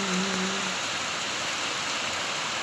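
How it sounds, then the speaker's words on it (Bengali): Heavy rain pouring steadily outdoors, a dense even hiss of falling water throughout, fairly loud and close, with a brief low tonal hum at the start and no talk. "এই তো দেখো বৃষ্টির জোর কত, অনেক বৃষ্টি হচ্ছে।"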